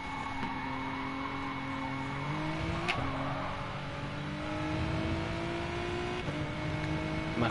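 Race car engine in the GT Sport racing game revs steadily at high pitch through a hot lap, holding a continuous loud drone with brief rising and falling shifts, heard alone without talk.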